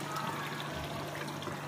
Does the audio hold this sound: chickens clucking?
no